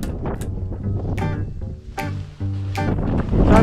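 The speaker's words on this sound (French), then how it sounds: "le vent en a plein la tronche" Strong wind buffets the microphone on a motorcycle road trip through France and Spain near the desert, a rough, gusting roar that rises and falls in waves, close and loud throughout.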